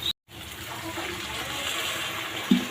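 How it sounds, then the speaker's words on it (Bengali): Water pours steadily into a pan of fish head and potato curry, a close, continuous gushing splash after a short silent gap, ending with a small knock. "এবার আমি এটার মধ্যে অল্প করে জল দিয়ে দেবো"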